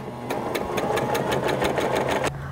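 A sewing machine stitches human hair wefts with a single needle, running in a steady fast rhythm of close, loud needle strokes for about two seconds before stopping abruptly.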